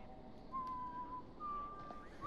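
A character whistles a few sustained, wavering notes in House of Ashes, faint and thin over a low rumbling background with no talk.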